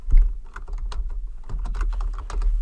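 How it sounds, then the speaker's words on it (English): Quick, uneven clatter of keys typed on a computer keyboard while entering a label in Microsoft Access, close and fairly loud, with no voice over it. "We're going to type end date"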